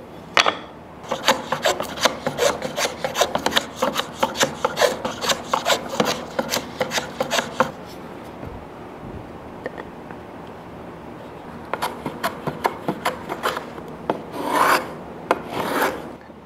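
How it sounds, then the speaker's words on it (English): A hand planer shaves down wood trim to fit a child's rocking chair, with quick, rasping strokes in steady runs and pauses in between, close and clear. "So I got one side trimmed down with the planer and now I just gotta adjust this side a little bit, take it down, so it fits"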